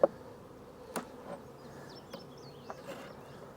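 Honey bees buzz around a hive, faint overlapping hums drifting past with a few soft knocks and clicks of handling, no talking.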